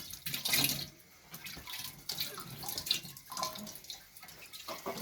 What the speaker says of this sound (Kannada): ಈಸಿಯಾಗಿ ನೀರು ಹಾಕಬಹುದು